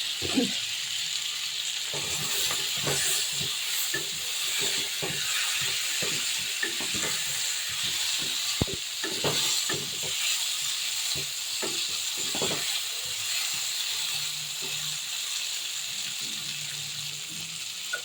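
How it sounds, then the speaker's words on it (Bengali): Potatoes fry in a pan with a steady, close sizzle, broken by scattered clicks and scrapes as they are stirred after the lid comes off. "আলুগুলো সামান্য একটু ভাজা ভাজা করে নিয়েছি"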